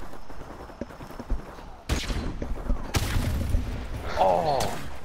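Explosion in Call of Duty Remastered: sharp blasts and gunfire crack over busy game noise, with a couple of strong hits and a rumbling tail, followed by rising mechanical whines.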